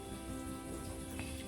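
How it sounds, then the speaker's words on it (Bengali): Continuous monsoon rain falls outdoors during a heavy spell of wet weather, a faint, even hiss of drops with no voices. "কন্টিনিউ তো বৃষ্টি দিতে আছে"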